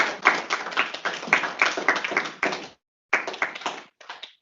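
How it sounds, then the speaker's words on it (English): Audience clapping for a personal project presentation, a steady patter of many hands that fills the first few seconds, breaks off briefly, then returns in a shorter burst before dying away. "give Eduardo one more round of applause."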